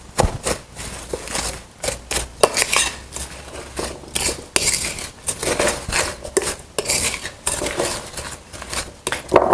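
A utensil scrapes and clinks around a bowl while brown sugar, oats and salt are mixed for an apple crisp topping, giving an irregular run of close, crisp taps and scrapes with short pauses.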